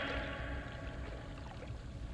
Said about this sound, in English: Not a sound. Only that splashing water. There it is. The eternal fountain.